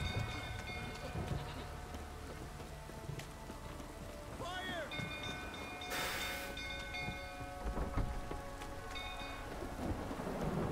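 Rainfall in The Witcher 3, a steady wash of rain over the whole stretch with a rumble of thunder rising midway, while background game sounds and a voice come and go.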